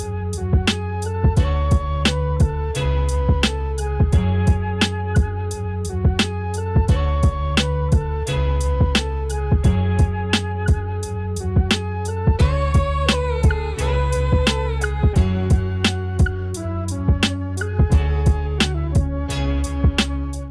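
Boom bap hip-hop beat with punchy, regularly spaced drum hits over a looping chopped melodic sample, steady and full throughout with no voices.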